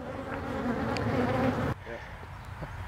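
A dense, steady buzz of many honeybees around the hives in a Canadian bee yard, loud and close, then thinning abruptly into a quieter hum with a few individual bees passing near.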